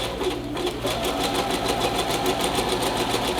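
Sewing machine running a zigzag stitch along a jacket facing, a rapid steady mechanical chatter of the needle close up, continuous and alone.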